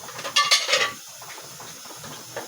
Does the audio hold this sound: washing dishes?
yes